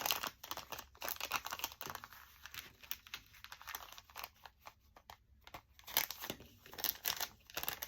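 A clear plastic bag crinkles and rustles as it is handled for an index card journal page, with irregular bursts of close, crisp crackling and brief pauses between them.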